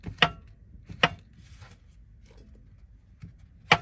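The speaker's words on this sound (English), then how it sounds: "let's put some mushrooms in this dish. And I'm doing slices." Mushrooms being sliced with a knife inside a camper van, a handful of sharp, separate knife strikes against a board spaced irregularly with quiet gaps between, close and clear with no talk.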